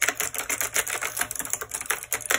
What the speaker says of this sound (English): This thing, this keyboard, this typewriter keyboard